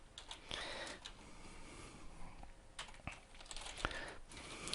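Quiet typing on a computer keyboard, a faint, close patter of soft key taps with a few sharper clicks scattered through the stretch.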